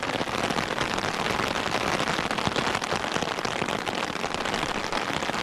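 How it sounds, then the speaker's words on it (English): Steady rain pours outdoors on the South West Coast Path during a hiking and wild camping trip, a dense, continuous hiss of drops drumming on surfaces, loud and unbroken throughout with no talking. "as you may be able to hear, we're having a little bit of rain"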